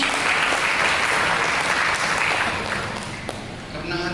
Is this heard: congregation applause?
yes